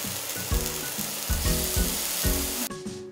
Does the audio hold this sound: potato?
yes